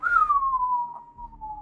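One long, slightly falling whistled note from a person imitating the Mission Impossible theme, close and clear over a faint background.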